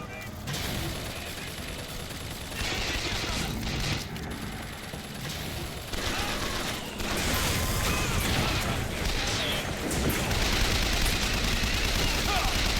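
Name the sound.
submachine gun firing in a video game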